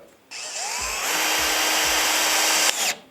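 Cordless drill with torque clutch set driving a short, thick screw: motor whirs up loud and steady for about two and a half seconds, with a brief ratcheting surge near the end before stopping.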